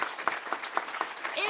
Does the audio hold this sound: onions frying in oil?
no